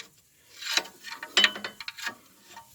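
A ratchet snugs bolts on the transmission of a 1995 Dodge Dakota Sport, giving a few short, close clicking bursts with quiet gaps between them.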